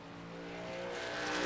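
A race car engine in the iRacing sim on the Richmond short track drones steadily and grows louder as it approaches, a smooth high-revving tone with no talk over it.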